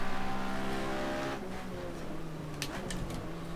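A 1960s car's engine accelerates on a race track, its steady rising drone heard from inside the cabin before the pitch drops at a gear change, followed by some faint ticks and rattles.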